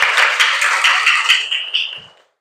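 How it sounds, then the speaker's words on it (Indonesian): Class of students clapping together on cue, a few loud rhythmic bursts of hands that taper off and stop within a couple of seconds. "tepuk tangan semuanya"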